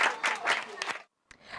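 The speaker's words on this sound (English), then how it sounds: "Give him a round of applause" A short burst of group applause for a chess player rises and falls in a few swells, cuts to silence for a moment, then a single brief clap sounds near the end.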